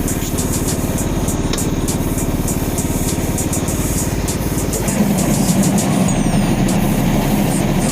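A riding lawn mower engine runs steadily nearby, its rough idle rising to a louder, busier revving drone partway through, with no one speaking.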